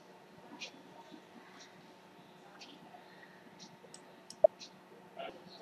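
A computer mouse clicks while saving settings in SAP software: a handful of faint, sharp clicks spaced irregularly over a quiet room background, with one slightly louder click.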